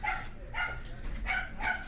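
A dog barks at a house with a boiler installation, giving four sharp barks in a quick, even rhythm, moderately loud over steady background hum.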